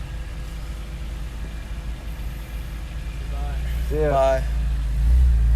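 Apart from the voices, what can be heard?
truck engine idling and revving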